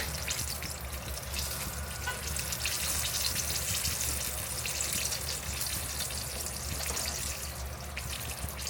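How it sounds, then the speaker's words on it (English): Chicken wings frying in hot oil, a steady crackling sizzle that holds at an even, moderate level close by, with no talking. "You see how slow it's sizzling?"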